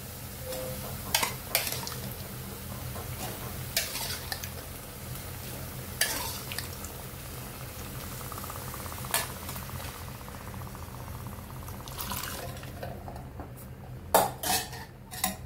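A spoon stirs boiled chickpeas in a pan, with a steady scraping swirl and sharp metallic clinks now and then against the metal. No one speaks.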